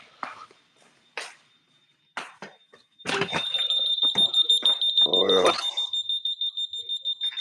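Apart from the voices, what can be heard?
smoke alarm chirping from low battery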